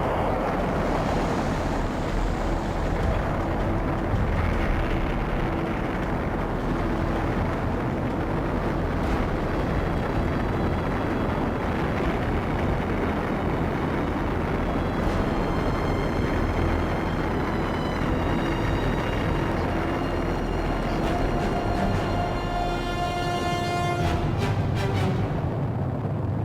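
A Saturn V rocket lifting off on an Apollo moon mission makes a continuous, roaring rumble with a broad low-frequency wash that stays loud and unbroken throughout, rising toward a crackling, distorted peak near the end.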